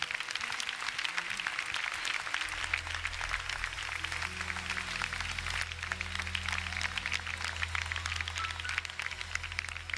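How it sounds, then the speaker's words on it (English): A church congregation claps hands in praise, a dense, continuous patter of many hands over a low sustained musical drone that enters after a couple of seconds. "let's give God a hand clap of praise."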